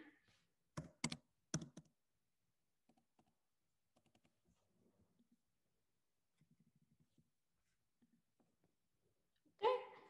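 A password being typed on a computer keyboard: a few loud, sharp key clicks up front, then scattered soft taps spread through the quiet, ending with a louder clatter, close up with no talk.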